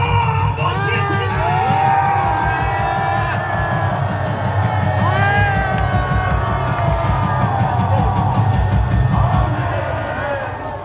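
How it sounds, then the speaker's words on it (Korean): A crowd at a Korean political gathering rises in a standing ovation for a pastor, with loud sustained cheering, whooping and shouted voices over a dense wall of noise that stays strong throughout and eases slightly at the end. "한기총 대표자가 지내신 장장원 목사님을 기립박수로"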